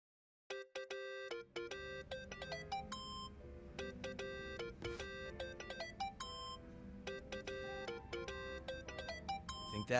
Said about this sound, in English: think that's your phone, man.